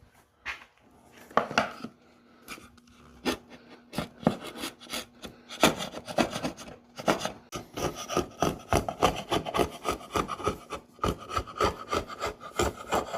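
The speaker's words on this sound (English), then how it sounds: "take a chisel, straight edge, or a scraper, anything that won't damage the wood, and just carefully get in there" Repeated rasping scrapes of a scraper drawn across a hardwood countertop, starting sparse and building into a steady back-and-forth rhythm, close and fairly quiet.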